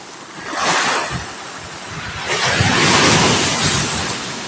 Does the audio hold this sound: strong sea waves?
yes